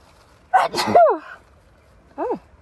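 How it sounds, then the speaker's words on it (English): A single sharp sneeze bursts out close by, followed by a short vocal trailing sound and a faint squeak a moment later. "I'm going to sneeze."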